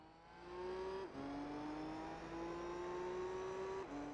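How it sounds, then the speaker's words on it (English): A race car engine in Gran Turismo 3 screams at high revs during a 400-metre dash, its pitch climbing steadily through the gears with two quick shift drops, smooth and synthetic-sounding. "I love how good these cars sound in this game too."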